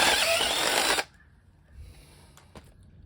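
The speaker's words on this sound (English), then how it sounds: "I'm going to need to drill a hole" A power drill bores a hole for a heavy-duty battery shunt, a loud, steady whine lasting about a second before it cuts off abruptly, leaving faint rustling and a couple of small clicks.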